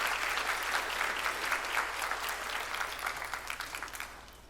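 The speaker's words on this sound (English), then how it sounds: "Let's give him a round of applause as he walks up." Audience applause at an insurance brokers' mid-year workshop as a guest walks to the stage, a steady wash of many hands clapping that holds strong and then fades slightly toward the end.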